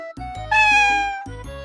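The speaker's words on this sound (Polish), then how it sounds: "to jest kot." A single clear, drawn-out cat meow, loud and close, set against a brief musical backing.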